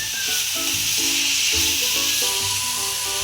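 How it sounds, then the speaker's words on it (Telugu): Chicken keema frying with onions in a pan gives a steady, close sizzle and hiss that runs the whole time, with no talking over it. "ఇది ఆనియన్స్ ఫ్రై చేసిన తర్వాత చికెన్ కీమా వేసేద్దామండి."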